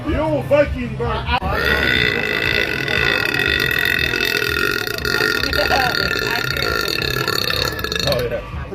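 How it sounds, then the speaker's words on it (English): A long, loud, deep burp from a woman in public rumbles on for several seconds, following a few short vocal sounds at the start. "The old Viking burp."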